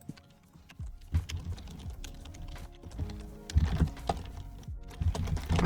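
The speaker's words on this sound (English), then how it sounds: "I'm typing that" Rapid clicks of typing on a computer keyboard tap out in uneven bursts, close and fairly quiet, with no talking.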